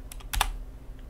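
A password is typed on a computer keyboard in a few quick clustered keystrokes, close and crisp, two sharp taps near the middle and then fainter clicks trailing off.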